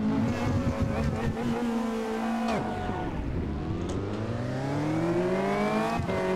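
Prototype race cars in the racing game Automobilista 2 rev and accelerate at a night-race start, several engine notes rising and overlapping in pitch sweeps, loud and continuous with no talk.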